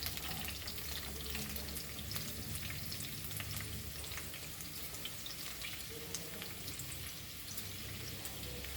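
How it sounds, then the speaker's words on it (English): Onions fry in a pan for a Goan squid chilli fry, a dense steady crackling sizzle at low volume that runs unbroken throughout, with no talking. "Now let's add our onion and we'll fry this."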